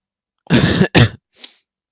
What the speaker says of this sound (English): I can't speak to them because I'm coughing so much